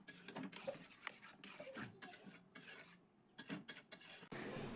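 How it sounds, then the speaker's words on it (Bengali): A spoon works through a thickening mango dessert mixture in a pot, scraping and clinking against the sides in quick repeated strokes, close and fairly soft. "ভালো করে একটু মিশিয়ে নেব।"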